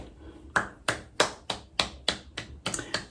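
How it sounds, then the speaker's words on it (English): A single person claps about nine times at an even, moderate pace, each clap crisp and close, with no talking. "Let's give them a hand clap"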